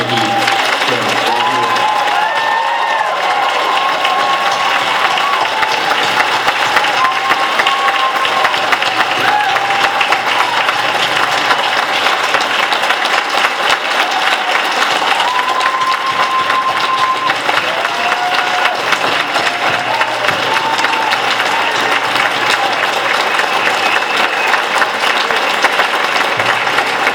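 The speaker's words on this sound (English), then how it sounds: "They deserved every second of that applause, by far." Sustained, loud audience applause fills a dinner hall at an SC Equality gathering, dense clapping with some cheering and crowd noise running steadily throughout, nearby and unbroken.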